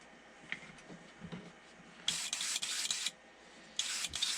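Airbrush spraying paint in short bursts, two bright close hissing blasts of about a second each separated by a pause, preceded by quiet handling clicks.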